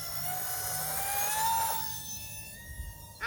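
An E-flite Cessna Citation Longitude UMX radio-controlled jet spools up for takeoff, its electric ducted-fan whine rising steadily in pitch over a constant rushing hiss, loud and close.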